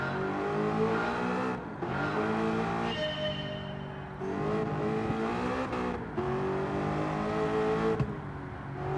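A new Corvette with a sports exhaust revs hard and repeatedly, its engine note rising and dropping through several gear-like surges as the car is driven sideways, loud and close with no talking.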